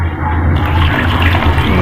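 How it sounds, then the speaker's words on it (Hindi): About a litre of water pours into a cooking pot holding roughly a quarter kilo of washed tamarind, a steady close splashing rush that runs unbroken throughout. "और 1 लीटर के करीब इसमें हम पानी ऐड कर देंगे"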